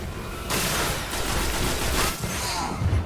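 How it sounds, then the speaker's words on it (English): Fusion rifle fire in the Destiny game, a sustained loud burst of dense crackling shots and booms running nearly the whole clip, with a short dip before it resumes. "Fucking fusion rifles."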